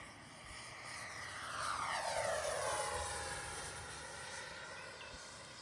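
A twin 40mm electric ducted fan F-18 model jet makes a half-speed low pass in high wind, its whine swelling to a peak and fading with a clear pitch sweep over steady wind rumble.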